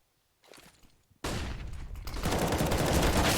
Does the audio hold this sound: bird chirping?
no